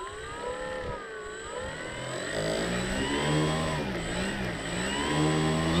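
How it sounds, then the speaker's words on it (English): An electric motor drives the propeller on an RC model Dynam Waco biplane with its cowling fitted. It gives a loud, close, steady whine that shifts slightly in pitch and grows a little louder, with no talk. "Motor back on."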